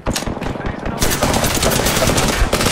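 Rapid machine-gun fire from enemies in an Apex Legends battle royale match rattles loud and close in a dense continuous burst, with no voices.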